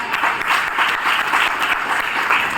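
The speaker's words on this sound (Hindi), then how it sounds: "आपसे कैबिनेट फर्स्ट लेवल के लिए ताली बजाओ" Audience applause for the Cabinet first level at an income plan meeting, a dense steady wash of many hands clapping throughout, loud and continuous with no voices standing out.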